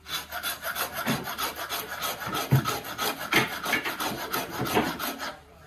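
A file rasps a ridge off the head of a Brant & Cochran Maine half-wedge axe in quick, rhythmic back-and-forth strokes. The scraping is close and steady throughout, with no voices.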